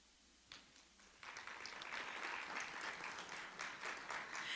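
An audience applauds award recipients at an MLK breakfast, the clapping starting faintly, then swelling into sustained, dense applause from a crowd in a large room.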